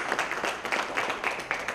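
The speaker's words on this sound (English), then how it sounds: "Let's give our guests a big round of applause." An audience at a corporate customer day event applauds, a brief burst of fairly close, rhythmic clapping with no talk over it.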